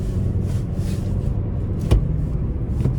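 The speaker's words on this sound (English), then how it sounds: "starting the test drive in the Sentra here" Cabin rumble from a 2025 Nissan Sentra SR driving on the road, a steady low drone with a couple of brief knocks or thumps partway through.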